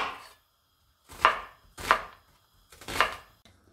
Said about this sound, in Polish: zaczynamy od pokrojenia cebuli w taką średniej wielkości kostkę